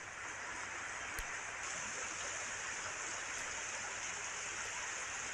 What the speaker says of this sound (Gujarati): ભારે વરસાદના કારણે અનેક જગ્યાએ આવી રીતે ગલીઓમાંથી પાણી વહી રહ્યા છે